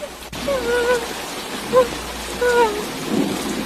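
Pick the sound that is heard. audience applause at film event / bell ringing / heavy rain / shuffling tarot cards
heavy rain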